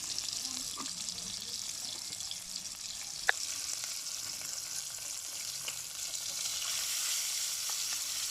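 Fish fries with garlic in a pan over a wood-fired stove, giving a steady, fairly faint hiss and sizzle with a few small clicks and taps of cookware.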